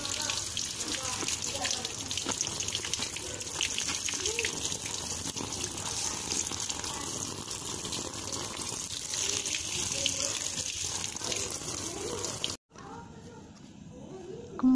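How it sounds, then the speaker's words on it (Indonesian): Tap water runs steadily into a sink with splashing as mint leaves are rinsed, continuous for several seconds before cutting off abruptly near the end. "Setelah dipetik tadi, kemudian saya cuci menggunakan air mengalir"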